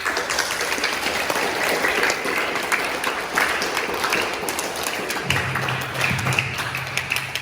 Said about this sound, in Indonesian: Tepuk tangan buat Hani.